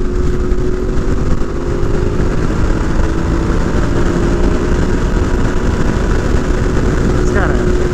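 A 2021 Yamaha Tenere 700 motorcycle rides a desert trail in Death Valley, giving a steady, continuous engine drone blended with rushing wind noise at a constant loud level throughout.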